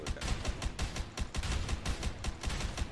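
Rapid gunshots ring out in the video game A Way Out, a dense string of sharp, evenly spaced cracks firing continuously for several seconds with no talking.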